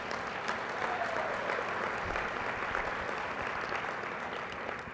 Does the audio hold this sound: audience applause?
yes